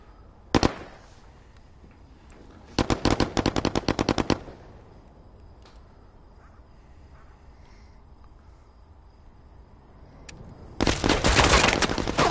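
Gunfire in the VR video game Firewall Zero Hour, with a single shot followed by two rapid automatic bursts separated by quiet gaps, then a longer sustained burst near the end.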